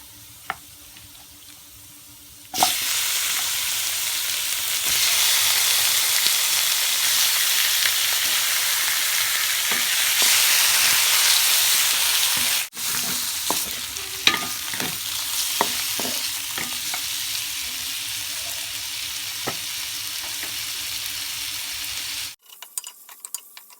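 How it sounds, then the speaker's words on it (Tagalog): Chicken pieces sizzle loudly in hot sesame oil with ginger, a dense steady frying hiss broken by occasional clicks and scrapes of stirring, close up with no talking. "Iniluluto natin yung ating sesame oil sa ginger. Yung ating chicken."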